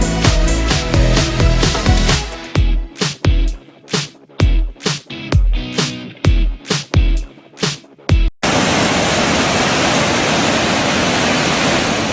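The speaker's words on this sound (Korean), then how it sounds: "물소리가 시원하게 들리고" Steady, broad rush of fountain water at Cheonggye Plaza, Seoul, splashing without a break, loud and close, after a stretch of rhythmic music that cuts off.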